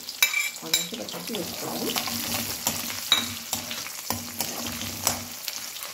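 Onions and green chillies sizzling in hot oil for an evening snack, a steady close crackle with repeated scraping stirs and utensil knocks throughout.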